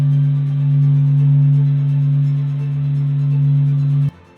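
Sonified reconstruction of the sun's sound: a steady, soothing electrical buzz with a strong low drone and a bright overtone just above it, holding evenly for about four seconds before cutting off abruptly.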